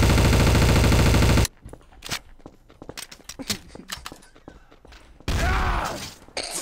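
AK rifle fire in Trouble in Terrorist Town, a dense burst of gunfire at the start, then scattered sharp shots and clatter, ending in another loud sustained burst.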